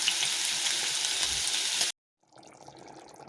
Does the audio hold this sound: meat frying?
yes